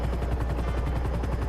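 Helicopter in GTA 5 Online with a steady rapid rotor thump over a deep engine drone, loud and close, with no voices.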